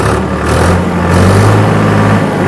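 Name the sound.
tractor engine revved to 2150 rpm for 1000 rpm PTO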